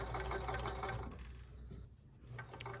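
A sewing machine stitches the hem of ripplefold drapery fabric, running steadily, pausing briefly, then starting again, close and clear with no voices.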